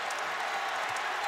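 NC State basketball arena crowd rising to its feet, a dense, steady roar of many voices and faint cheering as the home team runs down the clock.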